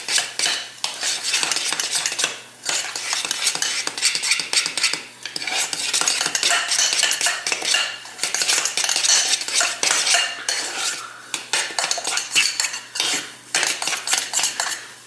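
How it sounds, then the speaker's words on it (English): Matzah meal batter is stirred vigorously in a pot over heat, loud continuous scraping and clanking of a utensil against the metal in a steady rhythm, close up and without speech. "bring it back to a boil and mix well until the batter starts coming away from the sides"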